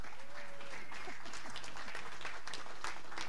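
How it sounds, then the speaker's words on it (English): Spectators at a 10-meter air rifle standing SH1 women's final in Chateauroux applaud the winner, crisp steady clapping with a brief tone and faint voices beneath. "Big applause."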